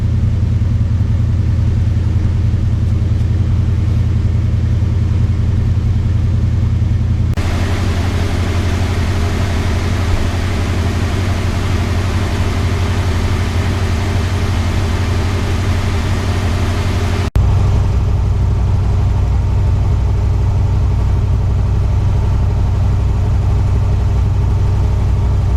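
A 1964 Dodge Custom 880 idles after a cold start in snowy winter weather. Its V8 gives a steady, deep, close rumble with no break, and the exhaust tone shifts once partway through.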